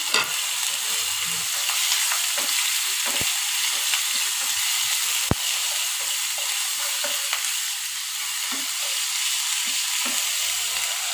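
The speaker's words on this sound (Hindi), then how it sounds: "इसी में डाल दिया अदरक लहसुन का पेस्ट" Ginger-garlic paste sizzles in hot oil in a home kitchen pan for vada pav, a steady bright frying hiss with occasional pops and spoon scrapes.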